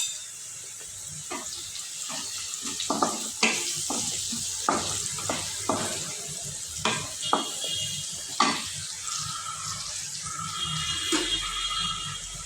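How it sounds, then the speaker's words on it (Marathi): Ingredients being sautéed in a hot pan for a quick okra dish, with steady sizzling and repeated sharp scraping taps of a spatula stirring at close range, no voices. "त्याला परतून घ्यायचं आहे"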